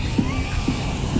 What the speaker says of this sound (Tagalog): Ang ganda ng alon guys,